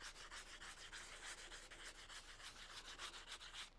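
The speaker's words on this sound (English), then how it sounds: "Take your soft charcoal and just sand across and make dust this way." Soft charcoal rubbed back and forth across a scrap of sandpaper to make drawing dust, a steady close scratchy sanding with quick repeated strokes and no talk.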